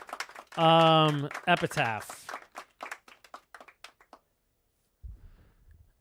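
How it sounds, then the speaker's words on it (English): A short golf clap follows a sung word: a handful of light, soft hand claps in a quick, thin burst before fading to near silence. "I get a golf clap for the kindness."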